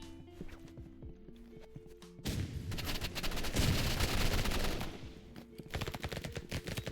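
Uzi fire in a paintball video game: a sustained, dense burst of rapid shots fills the middle of the clip after scattered isolated pops, followed by more irregular firing, loud and close.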